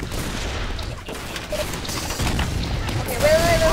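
Explosions from an upgraded sticky bomb weapon in an online multiplayer video game, a dense run of rapid blasts and gunfire-like bursts rolling on loudly throughout, with a rising electronic tone near the end.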